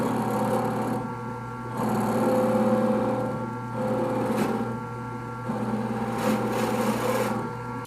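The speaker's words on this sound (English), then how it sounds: "I need to countersink those holes as well so that the bolt heads will fit in the holes" A tool countersinks bolt holes in a micarta knife handle, giving steady grinding, rasping passes in several bursts separated by short pauses, close up and fairly loud.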